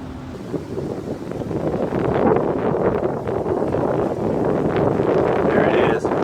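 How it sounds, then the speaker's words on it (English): Strong gusty wind roars steadily on a chilly night on a Washington, DC street, rushing through a clustered tree in a loud, broadband wash that swells and stays high throughout, with faint talk mixed in. "I'm trying to catch the hurricane winds blowing that tree."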